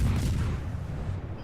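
Naval guns firing in a warship video game make a short, deep, muffled boom that rumbles off quickly.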